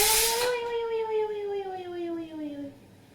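A pressure cooker on a kitchen gas stove lets out a loud burst of hissing steam, followed by a whistling tone that slowly slides downward and fades, close by with no talking.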